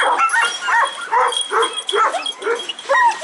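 A lively female Kangal puppy on a breeding farm gives a run of short, high yips and whimpering barks, close by and repeated in quick bursts with brief gaps between them.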